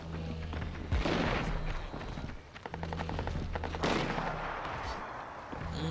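The Marshall shotgun fires in the video game Crysis 2: loud, heavy blasts at roughly one-second and four-second marks, each trailed by rattling echo and bursts of rapid gunfire in a busy battle mix.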